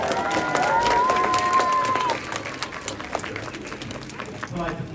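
A crowd at a West Midlands Safari Park show claps and cheers loudly for a couple of seconds, then the applause thins out to scattered clapping and murmurs, with a whistle-like tone sliding through early on.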